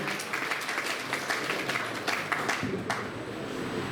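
An audience at a college national seminar applauds, a steady patter of clapping from many hands at a moderate distance that fades out near the end.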